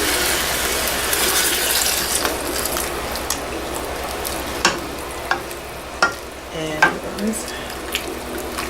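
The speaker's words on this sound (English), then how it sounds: "This point, we're just deglazing the pan" A hot pan is deglazed while making cornbread dressing: a steady bright sizzle runs throughout, with scraping and clinking strokes of a utensil growing more noticeable toward the end.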